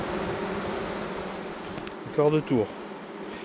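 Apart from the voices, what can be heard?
honeybees humming in a queenless hive colony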